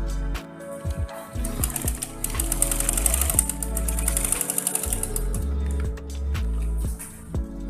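A sewing machine stitches the folded lining of an asymmetric blouse in uneven bursts, whirring runs broken by pauses and mechanical clicks, close and loud with no talk.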